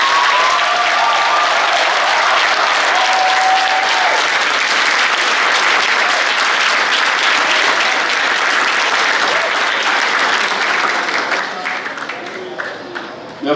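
An audience applauds at a medical doctoral thesis defense, a loud, sustained wash of many hands clapping that holds for over ten seconds before thinning to a few scattered claps, with some voices mixed in.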